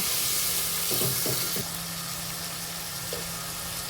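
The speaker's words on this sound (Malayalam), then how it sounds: "ഇതെല്ലാം കൂടെ നല്ലോണം ഒന്ന് വാട്ടിയെടുക്കാം" Chopped tomato and onions sizzle in a pan for a Kerala-style fish curry, making a loud, steady frying hiss with a few soft stirring knocks early on.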